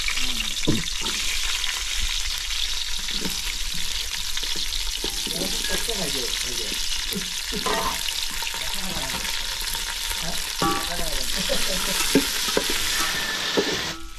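Cauliflower roasting and being stirred in a pan for a village-style veg Kolhapuri, a steady close sizzle with repeated scraping stirs and occasional knocks against the pan, with a faint voice briefly in the background.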